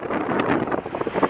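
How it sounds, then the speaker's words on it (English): Cold, dry wind on a roughly 40-degree day in New York buffets the microphone, a steady rumbling roar with uneven gusts swelling louder toward the end, no voices over it. "It's dry, and it's windy."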